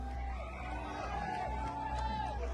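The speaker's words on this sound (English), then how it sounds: "Supporters start chanting Kirk's name ahead of his appearance." A crowd of about 3,000 supporters at an outdoor rally chants and cheers in a steady, dense roar, with occasional whoops rising above the mass of voices.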